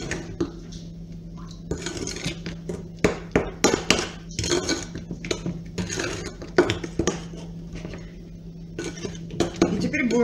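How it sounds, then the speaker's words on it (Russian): A spoon clinks and scrapes against a bowl while sour cream, starch and baking soda are stirred together, with irregular close taps and knocks of utensil on dish and a voice in the background. "Сметану, крахмал, соду. Немножко перемешаем."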